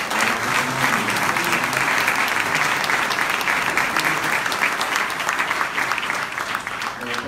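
Sustained applause from a sizable crowd at a Red Cross fundraising event, steady and strong throughout, with a brief spoken word heard over the clapping.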